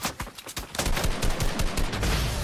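Rapid gunfire in the video game Fortnite: sharp repeated shots in quick bursts, close and loud, becoming a dense fusillade in the second half, with no talk.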